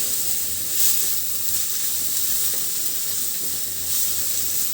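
Finely chopped onion frying in hot oil until soft, a dense, steady sizzle and hiss close up, with occasional faint stirring, no voices.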